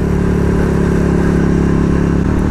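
Motorcycle riding along a road near old houses, its engine a steady close mid-pitched drone with rough rumble and a brief shift near the end.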